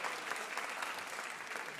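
Live radio show audience applauding on cue from an old-timey applause sign, a dense, steady patter of many hands clapping at moderate volume throughout.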